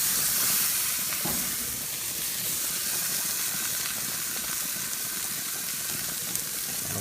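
Jalapenos roast in a hot pan with a continuous bright sizzle and hiss, fairly close, steady throughout with no talking.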